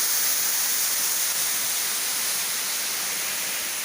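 A forest waterfall roars as a dense, steady wash of broadband noise, loud and constant from start to finish with no voices.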